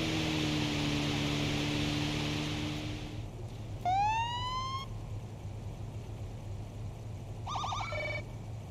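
A police car siren from the Police Simulator: Patrol Officers game on a Boston patrol, sounding as one rising electronic wail and then a short burst of stepped electronic tones, over steady low engine rumble. Nobody speaks.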